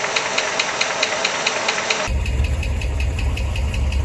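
A 1964 Ford Falcon engine idles steadily and close by, a rough running note with a faint repetitive knock; the sound shifts partway through to a heavier, deeper low rumble that continues evenly to the end.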